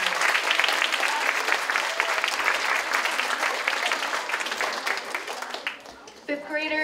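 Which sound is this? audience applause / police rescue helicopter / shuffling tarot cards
audience applause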